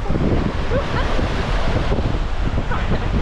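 Sea waves splash and wash against a boat in a constant roar of water, heavy with wind buffeting the microphone, close and loud throughout, with possible faint voices underneath.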